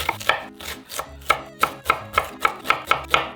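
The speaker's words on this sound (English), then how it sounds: "he's just like slicing up his onions with an epic knife" A large knife chops onions on a board in a home kitchen, about a dozen crisp, steady cuts in a brisk rhythm, close and loud, with no talk.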